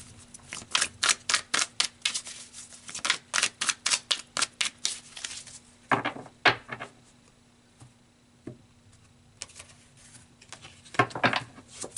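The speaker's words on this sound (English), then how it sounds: "let's pull some more cards" Tarot cards riffle and snap in a quick rapid series of crisp flicks, then a few separate slaps as single cards are drawn and laid down, close and clear with no talk.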